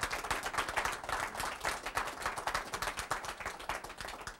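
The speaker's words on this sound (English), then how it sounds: "This thunderous round of applause is for you." An audience at a hypnosis show claps for a hypnotized volunteer in a steady round of applause, with many distinct hand claps at moderate level throughout.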